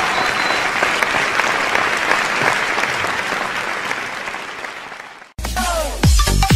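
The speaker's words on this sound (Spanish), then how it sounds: "Felicitaciones y aplausos para Jorge Casalís y su gente." Steady, dense applause fills the room for about five seconds, then cuts off abruptly and gives way to a different sound with an announcer's voice.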